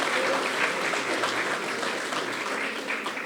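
An audience at an eloquence tournament applauds loudly, a dense, steady wash of clapping that fills the whole moment without pause.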